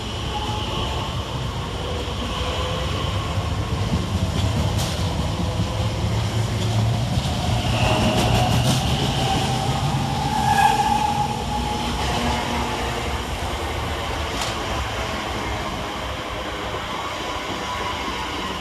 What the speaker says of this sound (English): 345062 departs and 345053 arrives